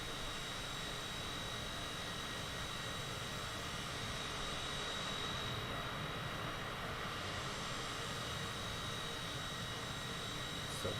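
Steady, continuous jet engine roar from a CJ4 business jet in Microsoft Flight Simulator, heard from outside the aircraft, broadband and constant with a thin high whine running throughout.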